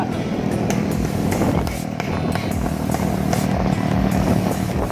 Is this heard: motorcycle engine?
yes